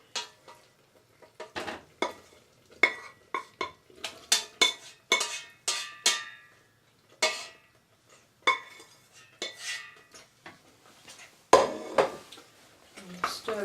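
Macaroni going into a pan of cooking leeks, heard as a series of close, sharp clinks, scrapes and rattles of pasta and utensil against the pan, sounding in irregular bursts with short quiet gaps.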